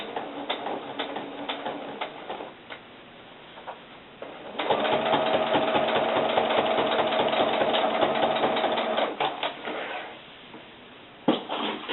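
Sewing machine running a top-stitching seam on a doll boot, with short bursts early on, then a long steady close whirring run of rapid needle strokes before stopping, followed by a few quiet handling sounds.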